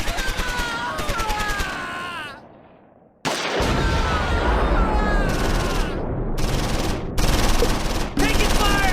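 Bursts of machine-gun and rifle fire in the World War II strategy game Close Combat 4, set at Simmerath during the Battle of the Bulge, rattle in loud rapid volleys broken by a brief lull, with voices calling out over the shooting.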